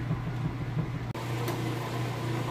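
Kenmore electric top-load washing machine running mid-cycle, a steady close mechanical hum and whir with a low motor drone and one brief dropout, no talking.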